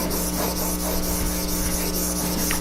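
Steel chisel being honed on a sharpening stone with light pressure, a steady continuous rubbing and scraping that stays even throughout, close and fairly loud, with no talking.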